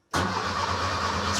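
A Porsche 912 engine is turned over by its starter. The cranking cuts in abruptly and continues as an even, close mechanical churn for just over a second.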